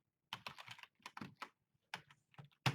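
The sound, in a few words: typing on a computer keyboard in Excel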